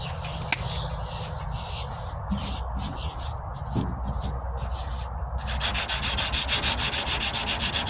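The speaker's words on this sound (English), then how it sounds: "when do you stop sanding?" Coarse, rhythmic scraping of 40 grit sandpaper on the metal tailgate of a 1998 Ford Ranger under rust repair, strokes growing faster and harsher toward the end.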